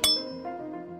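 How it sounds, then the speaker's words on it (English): Ringing rocks struck once with a hammer or another rock give a single bright metallic ping that rings on with a sustained, bell-like decay, heard alone and close. "the stones will make a ringing sound, as if they were hollow, but they're not."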